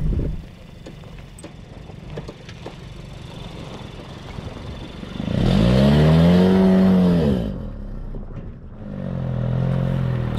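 Car driving along a dirt trail toward Goose Lake, Arizona: a steady low engine drone with rattling and bumping, then a loud rising rev mid-way that eases off before the engine swells again.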